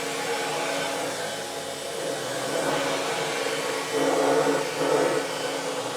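A 1992 Dirt Devil Broom Vac Model 702 runs with a steady, loud motor whine close by, its pitch rising a little partway through, with no talking.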